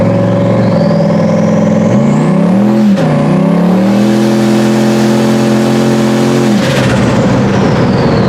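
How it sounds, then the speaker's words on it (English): Turbocharged truck accelerating hard under boost on a street pull, the engine note climbing steadily with rising whine, very loud and close, then a gear change and renewed climb before easing off near the end. "boost it feels great, Jess."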